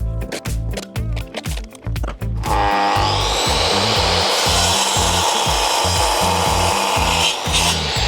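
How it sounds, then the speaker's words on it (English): A handsaw cuts through 2x4 timber for the sides of a wall, steady back-and-forth strokes rasping loudly and close in an even rhythm, with no one talking. "I am now cutting the bits of timber for the sides for the wall"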